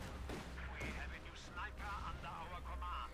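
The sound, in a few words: sniper rifle shot, from video game Company of Heroes 2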